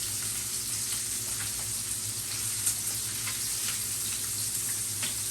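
Bacon strips frying in a pan with turkey, giving a steady, dense sizzle and crackle throughout, close and moderately loud, with occasional sharper pops and no talking.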